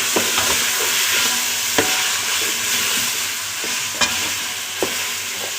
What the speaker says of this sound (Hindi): अभी हम इसमें डालेंगे हल्दी डालिए जी, और अभी हम थोड़ा सा हिला लेते हैं।